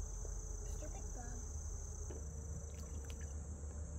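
Insects chirp and chirr steadily outdoors in Oakwoods Park, a continuous high buzzing drone that holds through the whole stretch with faint background rustle.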